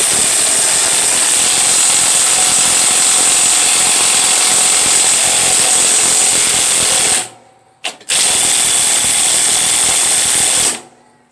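A socket ratchet turns a nut on a Craftsman YT3000 riding mower, giving a loud, steady, close buzzing rattle that cuts off abruptly, briefly resumes after a short gap, then stops.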